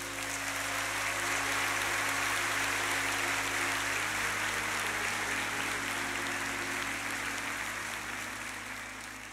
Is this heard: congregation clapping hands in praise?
yes